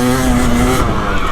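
A 2025 KTM 300XCW Champion Edition two-stroke dirt bike fitted with a quick-turn throttle cam revs loud and close, a sharp rising note that holds briefly then drops off, with a steady engine drone underneath.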